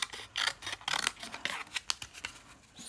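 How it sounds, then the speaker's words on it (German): Large scissors snip through paper while a pocket journal is being made, with a quick run of crisp cutting strokes and rustles, close and fairly loud, no voices. "Wo habe ich die große Schere? Die ist hier."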